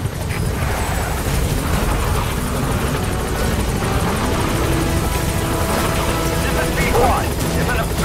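A support helicopter arrives at a landing zone in Metal Gear Solid 5, its loud continuous rotor thrum and engine roar filling the scene, with radio voices talking over it.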